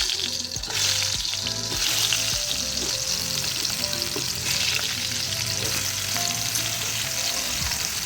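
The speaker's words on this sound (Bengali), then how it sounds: "পটলটা ভাজার জন্য আমি কিন্তু সর্ষের তেল নিয়ে নিয়েছি, আর তেলটা কিন্তু গরম হয়ে গেছে। এরপর কিন্তু পটলগুলো দিয়ে দেবো।" Pointed gourd (potol) frying in hot mustard oil for dahi potol: a loud, close, continuous sizzle with popping crackles and a few scraping stir clatters early on.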